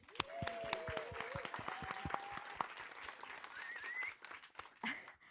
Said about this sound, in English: let's give a round of applause for Huda